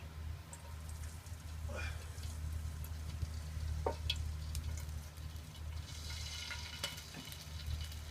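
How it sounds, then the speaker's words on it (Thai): A steady low hiss of a little water heating in a frying pan, with faint occasional ticks and pops and a constant background hum. "ก็ตั้งกระทะนะคะ แล้วก็ใส่น้ำไปนิดหน่อย"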